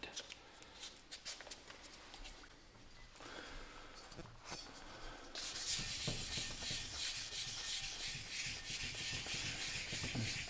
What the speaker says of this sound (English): I'm going to wet sand it with that first, just lightly, and hopefully get the paint smoothed out a little bit more.